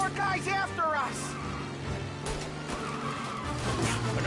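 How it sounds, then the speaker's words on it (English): Video game car chase after a bootleg booze truck: a close car engine roars under a long, wavering tire skid, and voices talk over the racing noise. "Another motor coming after the booze truck."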